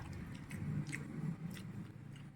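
Someone chewing a mouthful of dal at close range, soft wet mastication and small bites repeating steadily through the clip with no talking.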